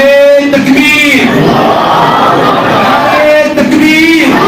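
A large crowd at a religious gathering shouts an Islamic slogan in loud unison, a dense roar of voices that swells and holds through the whole stretch.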